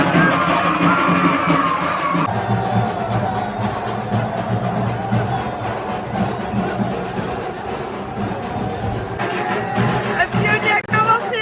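A noisy Holi festival crowd in Pushkar: dense babble of many voices with yells and whoops, steady throughout, with a loud musical drone and a shift in the mix partway through.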